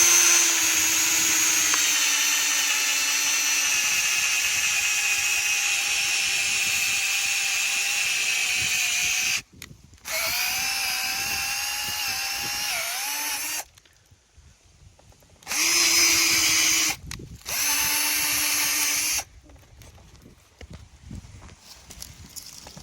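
A power drill bores a tap hole into a maple tree in spring, its steady high whine running loud for several seconds and then returning in short separate bursts with pauses between them.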